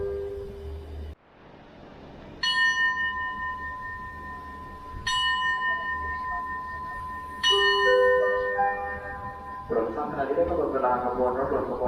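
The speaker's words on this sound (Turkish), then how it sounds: "Şu çanı çalıyorlar. Çanı çaldıktan sonra kalkıyor." A train departure bell at a station in Thailand rings out in several clear, sustained strikes spaced a few seconds apart, with voices and station bustle underneath.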